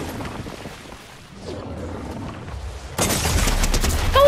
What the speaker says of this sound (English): Why is everyone shooting at me?